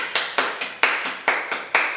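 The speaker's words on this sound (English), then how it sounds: "have a round of applause" A small group claps in a brief burst of applause, quick irregular hand claps close by and fairly bright, lasting about two seconds.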